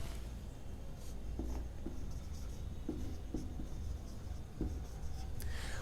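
A teacher writes out an example sentence, giving faint scratchy writing strokes in short uneven bursts over a quiet background.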